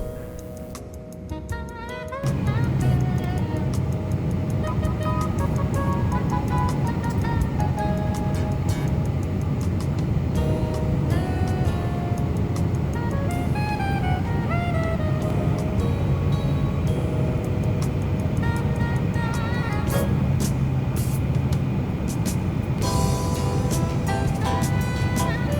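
Cabin of a Lufthansa 747-400 on final approach into Frankfurt, Germany: a steady, loud broadband engine and airflow roar that holds evenly throughout, with faint ticking and clicks on top.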